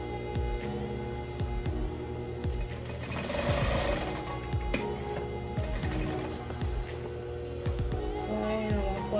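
Sewing machine running a quarter-inch seam, a steady close whirring hum with a rapid rhythmic needle chatter throughout.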